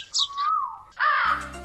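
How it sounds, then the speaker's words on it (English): Two brief bird calls in quick succession, close and clear, the second slightly harsher, with a faint hum underneath. "twittering of birds"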